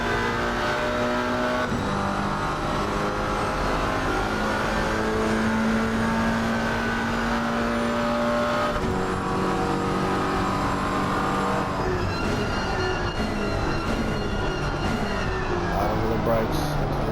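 GT4 race car engines in Assetto Corsa Competizione at Circuit of the Americas roar continuously at high revs, with pitch rising and dropping through braking and acceleration, and a hint of tyre squeal, under ongoing commentary.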